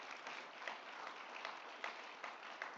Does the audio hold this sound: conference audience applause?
yes